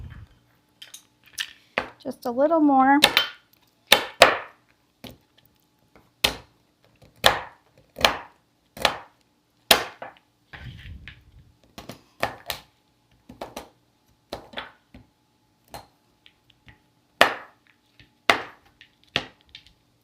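A knife chops chocolate on a cutting board, sharp close knocks coming one at a time in an irregular rhythm with short gaps between them; a voice speaks briefly early on.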